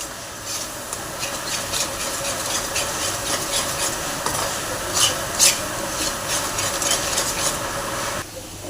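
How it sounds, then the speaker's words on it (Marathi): Spice masala of coriander powder and chilli roasting in oil for hotel-style shahi paneer, heard as a steady scraping and rasping of a spoon in the pan with faint sizzle throughout, close and continuous, no talking. "मसाले मिक्स करून छान असं तेल सुटेपर्यंत भाजून घेणार आहे"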